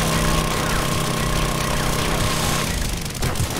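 A motorized drill whirs steadily in the survival game 7 Days to Die, a continuous loud mechanical drone with a faint engine-like hum, cutting off sharply near the end.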